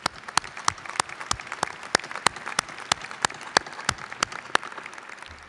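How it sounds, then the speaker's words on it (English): An audience applauds the faculty at the NJIT 2016 commencement ceremony, a steady wash of many hands clapping with sharp individual claps standing out, sustained throughout at moderate level. "A round of applause for our faculty,"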